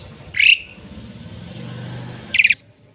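A Javan pied starling (jalak suren) kept in a home yard gives two sharp, loud chirping calls, one near the start and one near the end, over a low background hum.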